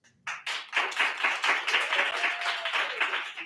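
Applause starts suddenly at a poetry night, a small audience clapping in quick bursts that swell and stay steady and close, with no talking over it.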